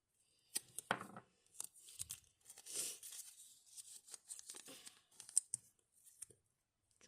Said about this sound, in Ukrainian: І на кожній частинку треба наклеїти двосторонній скотч.